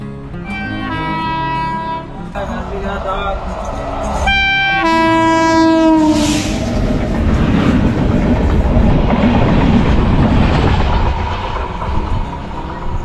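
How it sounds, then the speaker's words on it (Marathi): A train horn blares in long tonal blasts, then a goods train rumbles past close by on the Konkan Railway with steady rolling clatter. "पण इकडे एक गाडी आली आहे समोरून"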